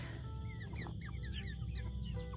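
Several chickens cluck and chatter close by behind poultry netting in a garden, a busy run of short overlapping calls over a low steady background hum.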